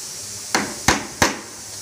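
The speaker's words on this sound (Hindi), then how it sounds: "इससे ठोकने से क्या है कि पूरा पूरा एकदम अच्छे से कील अंदर तक दब जाती है" Hammer blows drive nails into a wooden LED showcase, three sharp, loud strikes spaced about a third of a second apart against a quiet background.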